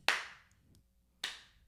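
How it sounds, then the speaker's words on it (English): Two single hand claps about a second apart, each sharp and close with a short ringing decay, and quiet between them. "that hand clap"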